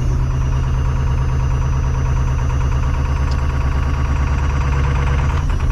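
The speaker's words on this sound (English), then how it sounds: "with her fast idling like so" A Ford 7.3 Powerstroke diesel engine fast-idles in the cold and snow, a steady close rumble with a rapid knocking clatter running evenly throughout.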